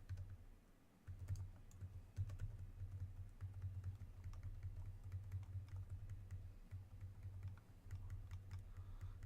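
Steady, soft typing on a quieter computer keyboard during a World of Warcraft Legion raid at Antorus, a continuous patter of key clicks over a low background hum.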